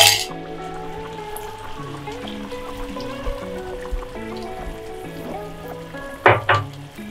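Spice paste added to simmering beef rezala and stirred, giving a low bubbling sizzle with a steady undertone, soft scrapes, and a couple of sharper clinks and splashes near the end, close by.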